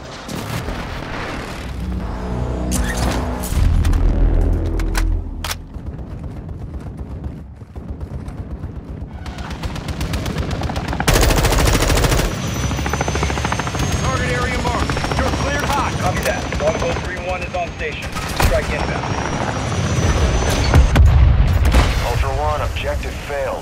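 A-10 gun strafing runs in the video game Modern Warfare 2: loud, tearing bursts of rapid cannon fire and explosions over a constant aircraft rotor drone, with radio voices and other battle noise mixed in.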